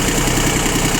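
An ISEKI TU1500 Japanese four-wheel-drive mini tractor with a rotary tiller idles close by, its engine putting out an even, low rhythmic chug that stays steady throughout, with no other sound.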